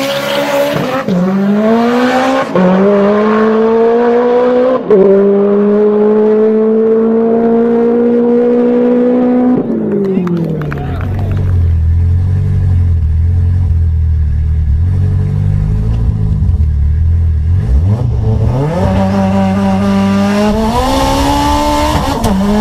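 A sleeper car engine revs loudly and close, rising and falling through several long pulls, then dropping to a deep idle before climbing again, with no talking.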